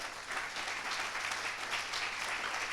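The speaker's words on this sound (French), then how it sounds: "On vous applaudit bien fort." Audience applause at a conference on Taiwan's sovereignty, a steady, moderately distant patter of many hands clapping for nearly three seconds with no voices over it.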